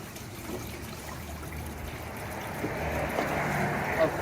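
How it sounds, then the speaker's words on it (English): Water trickling and draining from a garden fountain pot as its pump is lifted out, a steady outdoor wash of running water that swells slightly louder toward the end. "By doing so, you can already see this top pot is draining with water"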